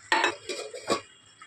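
A lid clanks down onto a cooking pot of prawn-stuffed pointed gourd dolma after a splash of water, giving three close metallic knocks with a faint ring, no talking.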